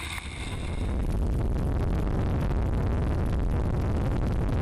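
A loud, steady roar of an offshore racing powerboat engine at the UIM Sicily Ocean Grand Prix, mixed with rushing water and spray, continuous and close.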